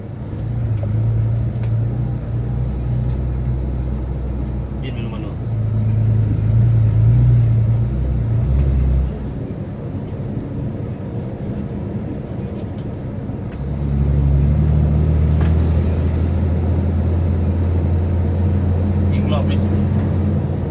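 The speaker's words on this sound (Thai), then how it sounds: "ฟูโซ่ M60 เทอร์โบอินเตอร์แรงไม่แรง เหลือล้นๆครับ" Rebuilt Fuso 6M60 turbo intercooler truck engine pulling hard on a test drive, a loud, steady low diesel drone that drops off around the middle and then climbs again, with people talking over it.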